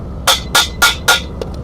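A hammer striking weld tacks on steel square tubing, four sharp evenly spaced metallic blows close by, followed by two faint lighter taps.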